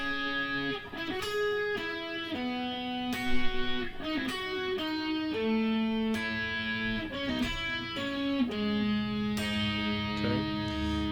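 Close acoustic guitar plays the first half of a song's verse, a steady run of picked notes and ringing chord tones at even volume, with no talking.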